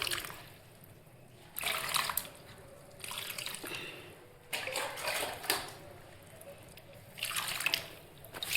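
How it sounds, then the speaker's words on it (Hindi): Potted dahlia plants getting Epsom salt water, poured in several separate bursts of splashing and trickling into dry soil, quiet pauses between each pour, close by and fairly soft. "अब मैं इनमें एप्सम सॉल्ट मिक्स पानी दे देती हूँ"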